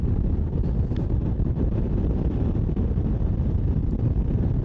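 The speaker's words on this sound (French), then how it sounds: "Alors il y a énormément de vent." Strong wind buffets the microphone of a rider on a 2023 Honda NC 750X DCT motorcycle during a road trip, a loud continuous low roar and rumble that fills the whole clip with no speech.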